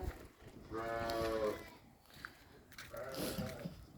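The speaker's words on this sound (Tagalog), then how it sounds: "Ang lusog ng kambing." Goats bleat twice nearby, one longer call followed by a shorter one, over quiet background noise.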